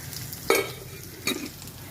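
Bay leaf and onions frying in oil until reddish-brown, a steady close sizzle broken by two brief bursts of louder crackling as the pan is stirred.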